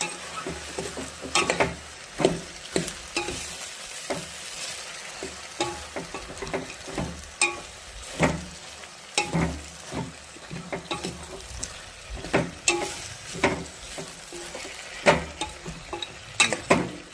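Onions and tomatoes fry in a pan for a broad bean curry, a steady sizzle broken by regular scraping, clattering strokes of a spoon stirring them together, close and moderately loud with no talk.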